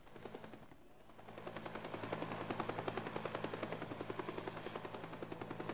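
A helicopter attacks in the video game Teardown, with rapid rhythmic rotor thumping mixed with what may be sustained machine-gun fire, loud and continuous throughout with no talking.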